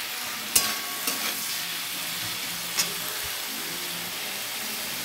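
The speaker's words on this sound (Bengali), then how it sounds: "এবার এটা একটু নুন হলুদ দিয়ে একটু ভেজে নেব" Fish sizzles steadily in a pan with salt and turmeric, a constant close frying hiss broken by a few light clinks of stirring.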